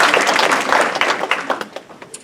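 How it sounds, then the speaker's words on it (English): An audience applauds scholarship students at a university award ceremony, a burst of dense clapping that thins out into scattered individual claps within a couple of seconds. "So can we give the students a round of applause?"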